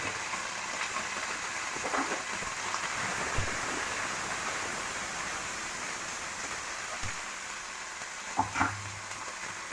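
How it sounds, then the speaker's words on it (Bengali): Spices fry in oil for a fish malai curry made without coconut, giving a steady, fairly quiet sizzle that runs throughout, with a few faint knocks near the end and no talk. "মশলাটা একটু ভাজা ভাজা হয়ে গেছে"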